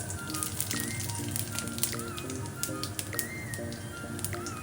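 Cumin seeds tempering in a little hot oil for a vegetarian papad curry give a steady, close crackling sizzle that runs throughout, with faint tonal sounds in the background.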